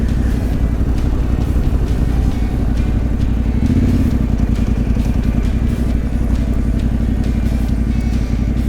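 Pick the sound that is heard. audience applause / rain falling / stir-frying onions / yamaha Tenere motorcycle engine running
yamaha Tenere motorcycle engine running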